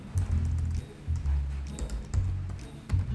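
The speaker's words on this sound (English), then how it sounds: "So the second way is to input the keywords in the searching bar." Close keyboard typing as keywords go into a website search bar, in a quick run of soft, irregular key clicks with short gaps between them.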